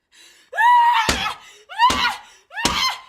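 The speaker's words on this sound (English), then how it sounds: "Strada understands that the actress is actually screaming and crying." An actress in a film scene screams and cries in three loud, anguished bursts that rise and break off, each cut by a sharp slam-like hit.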